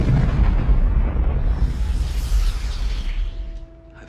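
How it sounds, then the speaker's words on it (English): Planet Krypton exploding in the 1978 film Superman: a loud, deep, rumbling blast that roars at full strength for about three seconds, then fades into a low decaying rumble, with no voices. "Krypton's destruction concludes with a"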